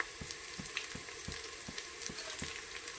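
Spices, cardamom, cinnamon and mace sizzle in hot oil with green chili paste, a steady fry crackle broken by regular stirring knocks, close and moderately quiet with no speech.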